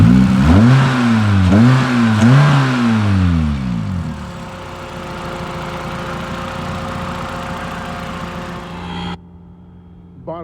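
A Toyota Matrix XRS with a freshly installed 2ZZ engine is revved up and down several times, the pitch rising and falling in loud sweeps close by, then settling into a steady running drone that cuts off near the end.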